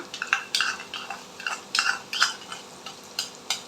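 A spoon stirs whisked sour yogurt into mutton curry in a pan, giving a run of quick scraping, clinking strokes in an irregular rhythm, close and fairly quiet with no talking.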